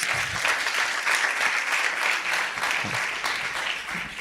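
Gathering at a religious study camp in Dubai gives a child a hearty round of applause, continuous dense clapping from many people, with faint low voices underneath.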